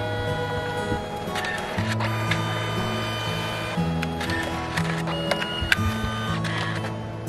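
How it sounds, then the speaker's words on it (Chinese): A photo printer prints a photograph, with a steady mechanical hum and whir running throughout, layered with feed clicks and shifting motor tones at close range. "现在大爷的照片正在打印中。"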